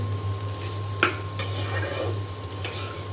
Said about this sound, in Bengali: আমি একদম ভাজা ভাজা করে নিয়েছি।